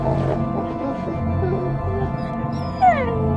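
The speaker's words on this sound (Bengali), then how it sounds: "একটা কাতর গোঙানির সঙ্গে কুকুরের ডাকটা থেমে গেল।" A dog whimpers and whines plaintively as its barking stops, ending in a short rising-then-falling yelp, as an audiobook sound effect over a faint steady background.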